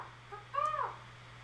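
A bird giving one short warbling call, clear and fairly close, lasting under half a second over a low steady hum, with no talking.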